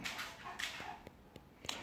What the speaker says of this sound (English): got giant dogs trying to wrestle in the living room